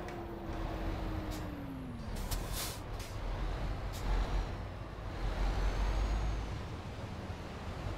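A heavy MAN TGX truck engine in Euro Truck Simulator 2 rumbles steadily while short bursts of air brake hiss release in the middle, with faint whining tones.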